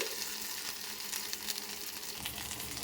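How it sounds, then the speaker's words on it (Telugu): Okra fries in a kadai, a dense, even hiss of oil that carries on steadily at moderate level without pauses or voices. "సో ఇప్పుడు అదే బాండిలో బెండకాయలు వేయించుకోవాలి."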